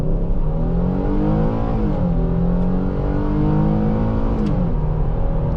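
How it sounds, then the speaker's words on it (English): A 2019 Ford Flex SEL with all-wheel drive accelerates hard from 0 to 60, its engine note climbing in pitch, dropping at gear shifts and rising again, heard loud from inside the cabin with no talk. "Let's actually try a 0 to 60 run quickly in this car."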